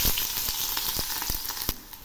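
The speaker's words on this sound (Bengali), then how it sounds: "এই পেঁয়াজগুলো খুব ভালো করে ভেজে নেব।" Chopped onion and green chili fry with black cumin in hot oil, a loud bright crackling sizzle punctuated by sharp stirring knocks, with no voices.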